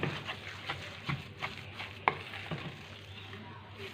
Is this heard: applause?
no